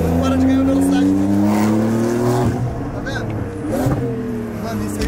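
Turbocharged Porsche 991 engine pulls hard through third gear, a loud rising drone with a shift midway and continued acceleration, heard from inside the car with people talking over it.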